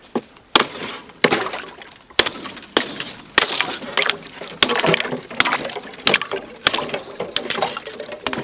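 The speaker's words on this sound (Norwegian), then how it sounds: "Men jeg får prøve å komme meg gjennom isen her, da." Ice on a frozen lake being broken open to reach water for drinking, a series of sharp cracking and crunching blows with short pauses between them, close by and fairly loud, with some wet splashing among the impacts.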